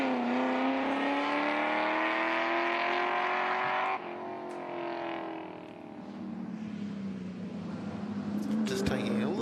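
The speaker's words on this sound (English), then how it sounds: "you hear that glorious Mustang roar coming around" A Mustang race car roars around the Leyburn Sprints track, engine note climbing and falling as it passes and brakes into a corner, loud and sustained under excited commentary.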